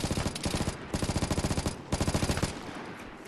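Rapid bursts of automatic gunfire from a video game shootout, loud and close, firing in three rhythmic volleys with short pauses between them.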